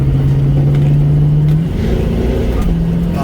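A 1969 Pontiac Firebird fitted with a shift kit accelerates from a stop, with a loud, steady engine drone that breaks at an upshift and then settles into a lower, rising tone.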